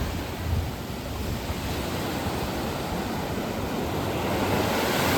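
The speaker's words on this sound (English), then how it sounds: "This is the beach in Puerto Vallarta here." Ocean surf breaks on the beach at Puerto Vallarta, Mexico, a steady, loud wash of waves roaring continuously up close, with wind buffeting the microphone and no voices.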